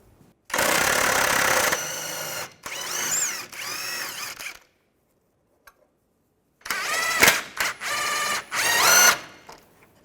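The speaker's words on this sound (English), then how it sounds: "I'm going to use a 21mm socket, take all the corner bolts out." Power ratchet or impact tool driving a 21mm socket to remove the corner cradle bolts on a 2005-2010 Chevrolet Cobalt, in several loud whirring bursts separated by pauses.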